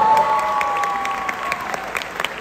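Applause from the audience at a musical's 200th-performance celebration, loud and close at the start and thinning slightly as it goes on, with a faint high tone underneath.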